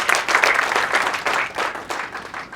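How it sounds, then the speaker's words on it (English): Brief burst of audience applause at an SME portal launch event, clapping for business people, steady crowd clapping that tapers off within a few seconds. "So let us clap for all those who are in business."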